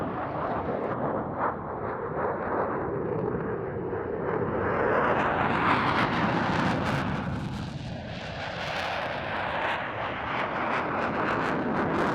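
A Danish Air Force F-16AM fighter jet roars past at an air display, its engine thrust swelling loudly toward the middle and then fading as the jet moves away, with no voices.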